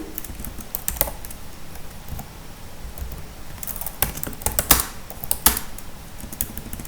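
Keys clatter on a computer keyboard while code is entered for an Odoo module, a steady run of light clicks with a few sharper, louder strokes near the end, heard alone with no talk.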